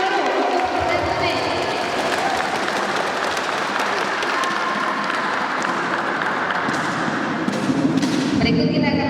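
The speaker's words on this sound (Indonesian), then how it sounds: "kita berikan aplaus dulu untuk resume" Audience applause at a school quiz competition, a junior high museum quiz contest, sustained dense clapping filling the whole stretch at steady loudness, with a voice faintly over it near the end.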